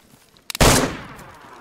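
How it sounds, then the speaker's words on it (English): A video-game gunshot rings out as a single loud, close blast with a brief rolling tail, preceded by a couple of small clicks. "I just shot somebody"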